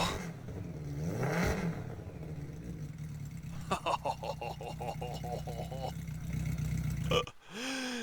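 A race car engine idles with a harmonic drone, then revs in a quick rhythmic series of sharp blips before a final rising surge and cutoff; people talk over parts of it.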